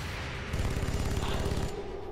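Rapid gunfire rattles through a firefight in Singularity: Mechatro, a dense burst of repeated shots that builds and holds for over a second against a noisy game soundscape.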